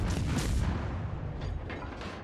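Naval gunfire in World of Warships, heavy booming and rumbling from ship guns with a mechanical churn, continuous and loud through the short stretch with no talk.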